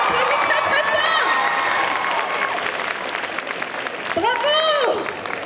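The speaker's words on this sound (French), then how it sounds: "Et on l'applaudit encore. On l'applaudit très très fort." A festival crowd at a Sunday cosplay parade bursts into loud applause and cheering, with shouted voices and whoops rising over the clapping.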